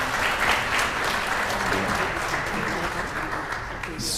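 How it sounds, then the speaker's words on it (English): Continuous clapping from the audience at a live-streamed music session after a sight-read piece, fairly loud and even, with no voices breaking through. "They're very clever and deserves an applause."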